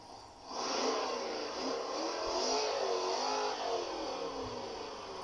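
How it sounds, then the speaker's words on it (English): A simulated Jeep Grand Cherokee engine sound revs and hums for several seconds, holding a fairly constant pitch with a slight swell midway. "Even there is a Grand Cherokee engine sound."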